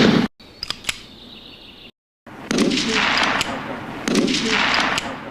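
Real bullets are fired at a plaster-relief painting with embedded cans and bags of paint, giving sharp, loud reports followed by noisy bursts and a short silent gap between shots.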